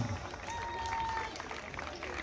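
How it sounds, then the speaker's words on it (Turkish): Applause for players at a championship trophy ceremony in Beykoz, a faint, steady patter of clapping from a distant crowd with a thin whistle above it. "Büyük alkışlar"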